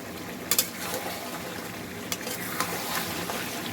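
Mango pieces for a mango chicken curry frying in hot oil in a pan, a steady low sizzle with a few sharp pops and clicks of a utensil near the start and middle.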